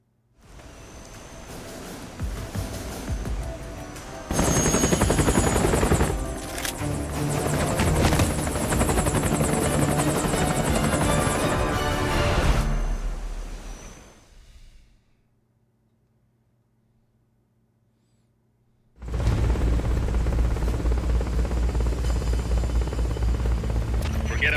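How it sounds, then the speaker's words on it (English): A helicopter in Metal Gear Solid: Peace Walker, a loud whirring rotor drone that swells to a roaring peak, drops to near silence for several seconds, then returns at full strength. "Let's see if we can take down a chopper."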